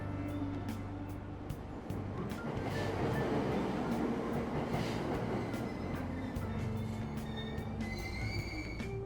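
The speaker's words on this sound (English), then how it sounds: "Train doors are now closing." A subway train pulls away from the platform in Persona 5 Royal: rolling wheel rumble builds and grows dense, with faint metallic squeals and chimes above, loud and continuous throughout.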